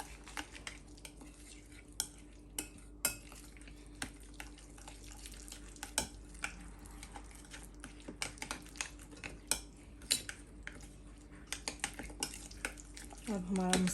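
Spices for a tandoori salmon marinade stirred in a bowl, with spoon scrapes and light clinks against the bowl repeating steadily at close range, fairly quiet.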